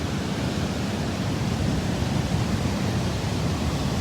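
Ocean surf rolls onto a beach in a continuous, loud roar of broadband wash, steady and unbroken, with no voices over it.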